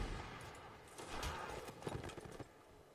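Cannon fire in a Napoleonic Wars line battle, a scattered burst of booming shots and crackling musket-like reports across a noisy battlefield, moderately distant amid continuous rumble.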